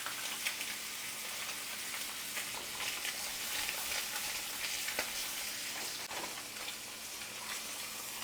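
Food frying in butter in a pan, giving a steady, even hiss of sizzling that holds throughout with a few faint clinks, fairly soft and with no talk.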